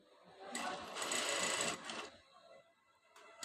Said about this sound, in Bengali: এত স্পিডে চলে এই মেশিন আর সেলাই করা খুব আরামদায়ক